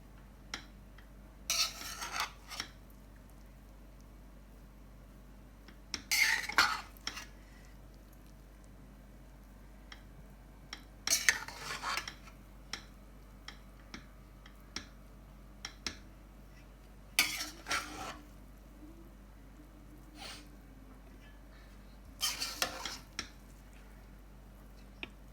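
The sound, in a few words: stirring food colours into sweet rice (zarda)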